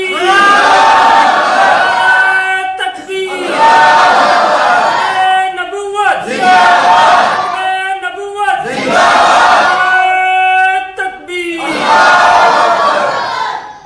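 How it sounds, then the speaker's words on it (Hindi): A large crowd at an Islamic religious sermon gathering chants the takbir slogan in loud, rhythmic, unison call-and-response bursts of about two seconds each, repeated several times and filling the space. "नारे तकबीर"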